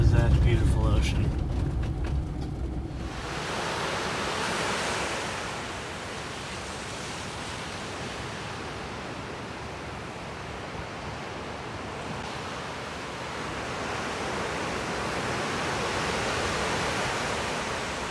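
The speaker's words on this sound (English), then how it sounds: "there is that beautiful ocean" Ocean surf on the Northern California coast: a broad, steady roar of breaking waves that swells and eases gently, following a brief burst of different rumbling noise at the start.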